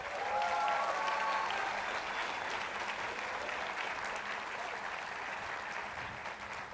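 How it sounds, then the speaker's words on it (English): Commencement audience applauds a retiring co-president with sustained, dense clapping that holds steady throughout, with a faint murmur of the crowd underneath. "please take a minute and give him a round of applause"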